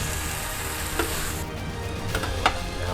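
Nachos tossed with salsa verde and salsa roja using spatulas in a hot pan, a steady sizzle with a few soft scraping stirs standing out, close and without talk.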